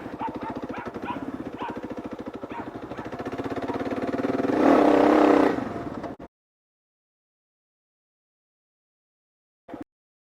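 A Kawasaki KLR650 motorcycle on a slick surface: a steady, pulsing single-cylinder thump swells as the throttle opens, then cuts off abruptly into silence. A brief faint knock follows near the end.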